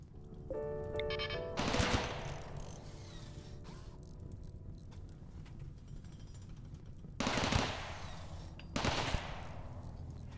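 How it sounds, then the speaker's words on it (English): Turret gunfire in the colony-survival game Rimworld, heard as a few separate bursts of rapid shots, the loudest near the start and two more later, over a steady background hum with chiming tones early on. "Turrets are so inaccurate. I think it just shot itself."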